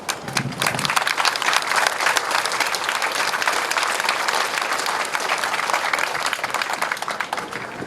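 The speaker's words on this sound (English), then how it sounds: "Please give them a round of applause for the demonstration earlier." An audience at a JROTC opening ceremony gives a drill team a long, loud round of applause, dense, continuous clapping from a large crowd sustained for several seconds.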